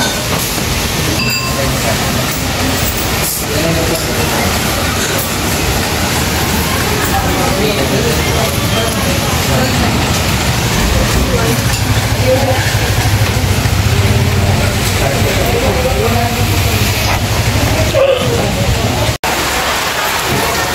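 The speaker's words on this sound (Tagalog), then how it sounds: "Umulan na naman, no? Kaya na umaraw na, tapos ngayon biglang umulan." Sudden rain pouring down outdoors, a steady loud broadband hiss of falling rain that holds throughout, with people talking over it.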